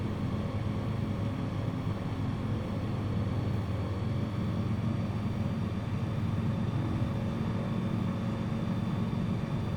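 Aircraft touching down slowly in Microsoft Flight Simulator at a New Zealand beach, a steady broad engine and wind rumble holding level throughout with no voices.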